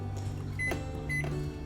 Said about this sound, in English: And then you're going to take that and put it in the microwave.